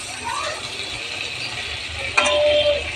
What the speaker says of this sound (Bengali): এখনও ভাজতে বাকি আছে আলু খুব ভালো করেই ভেজে নিতে হবে